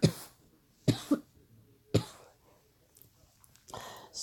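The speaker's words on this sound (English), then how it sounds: "Excuse me for coughing" A person in a dry-aired living room lets out a series of short, dry coughs: a single one, a quick double, another single, then a softer one after a pause, all fairly quiet and close.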